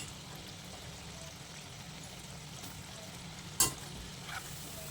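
Coriander vadi (kothimbir vadi) deep frying in hot oil on a full flame, a steady close sizzle and bubbling with one sharp clatter partway through; no one talks.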